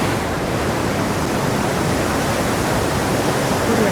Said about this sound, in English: This is flowing right out of Vernal Fall and Nevada Falls, coming downhill.